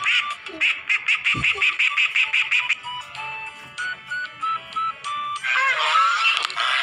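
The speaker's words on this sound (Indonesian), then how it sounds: "bebek," A duck quacks in a rapid series of short, nasal calls, then a few more spaced quacks and a longer raspy call.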